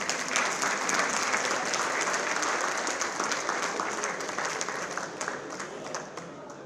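Audience applause welcoming a poet at an international Urdu mushaira in Bahrain, a dense, steady wash of clapping from a large crowd that holds at full strength before tapering slightly at the end.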